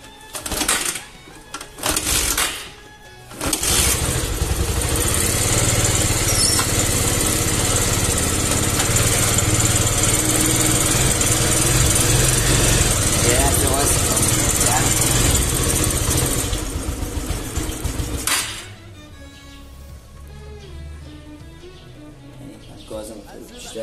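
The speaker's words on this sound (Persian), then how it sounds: "خب حالا بریم که موتور رو روشن کنیم بدون رل شتاب." A motorcycle engine with no acceleration relay fitted starts after a few short cranking bursts, then runs at a steady loud idle with no revving for about fifteen seconds before shutting off, leaving quiet talk.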